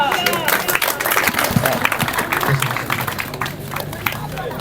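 Applause and crowd noise break out at a lucky draw for a free motorbike prize at Al Hafiz Electronics in Fateh Jang, dense clapping mixed with chatter and voices throughout.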